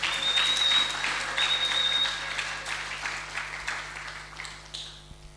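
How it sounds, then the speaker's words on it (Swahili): A church congregation breaks into applause acclaiming Jesus, a dense wash of clapping that is loudest at first and gradually thins and fades over several seconds. "Est-ce qu'on peut acclamer Jésus?"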